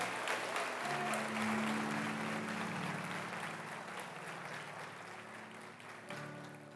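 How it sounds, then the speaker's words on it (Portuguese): A church congregation applauds loudly and steadily for several seconds during a service, with sustained music tones carrying underneath the dense clapping. "Quem pode aplaudir Jesus bem forte?"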